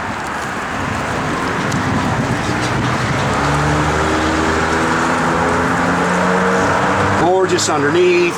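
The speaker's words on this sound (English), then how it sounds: "this wind and the leaves just playing havoc" Wind gusting steadily outdoors and pushing leaves around beside a 1970 Chevrolet Chevelle SS convertible, a constant loud rushing wash, with a person speaking briefly over it near the end.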